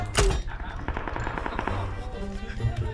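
A sharp blast at the start followed by rapid crackling bursts and rumble from a grenade explosion in a video game, with voices talking over it.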